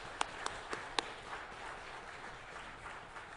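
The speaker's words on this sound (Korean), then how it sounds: "박수로 축복하시겠습니다" A church congregation at a Sunday service claps: four sharp, separate claps ring out in the first second, then only a faint, soft patter of scattered clapping lingers under quiet room noise.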